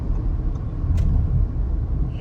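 Steady low road rumble from inside a car cruising a two-lane national highway at night, a continuous close drone with a brief faint high hiss partway through.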